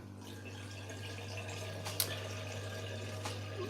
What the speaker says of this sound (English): I thought you guys won't mind the flushing noise below us in the sink